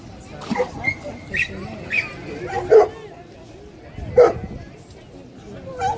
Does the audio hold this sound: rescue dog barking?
yes